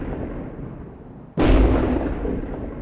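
A self-propelled artillery gun in a tank video game, the Bishop, fires one heavy, deep booming shot that follows a low rumbling engine drone and leaves a long rolling decay.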